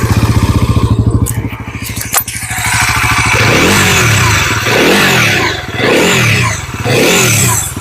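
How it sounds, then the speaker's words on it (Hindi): Bajaj Pulsar NS400Z motorcycle exhaust: a loud, close idle burble followed by several sharp throttle blips that rise and fall in rhythm, revving alone without talk. "इंजन में चेंज हो गया, मतलब उसका एग्जॉस्ट नोट में भी चेंज हुआ रहेगा, जो आपको सुनाते हैं इसका एग्जॉस्ट नोट भी।"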